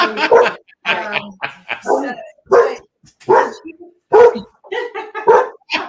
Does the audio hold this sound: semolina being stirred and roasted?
no